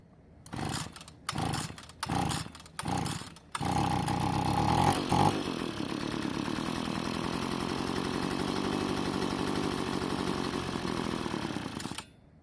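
A secondhand Poulan leaf blower with a carb fuel prime is pulled several times with short sputters, then catches and runs loud and steady at close range for about eight seconds before cutting off.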